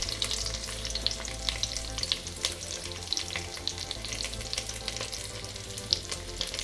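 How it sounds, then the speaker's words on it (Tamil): Curry leaves and ginger sauté in hot ghee for ghee pongal, a steady crackling sizzle with bursts of spitting and the scrape of stirring, close and continuous with no voices. "கருவேப்பிலை போட்டுக்கிறேன், இஞ்சி, லைட்டாக வதக்கி விட்டுக்கலாம்."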